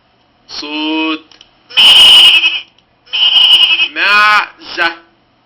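A goat on a farm bleats in a run of loud, wavering calls, about five separate cries with short gaps between them, close and clear with nothing else behind them.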